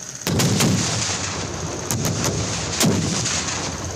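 A Kestrel (Hung Chun) anti-armour rocket launcher fires at a military range, a sharp heavy blast followed by a rolling roar, with several further sharp reports echoing across the open range.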